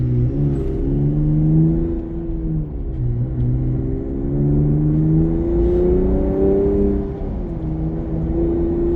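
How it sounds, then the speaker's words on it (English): A 2025 Ram Rebel pickup drives with its exhaust removed, giving a loud, raw engine rumble that rises and falls smoothly as the revs change under load, with a steady droning tone and no talk. "I'm driving the truck with no exhaust right now"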